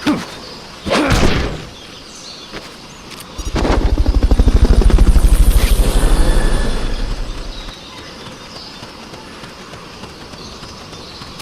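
Helicopter in the video game Metal Gear Solid Peace Walker, its rotor thumping in a rapid rhythmic pulse that swells loud for several seconds and then fades, alongside sharp game effects and ambient birdsong.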